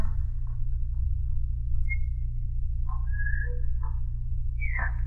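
A few short, thin whistled notes over a low steady hum, with pauses between phrases and a rising tone at the end.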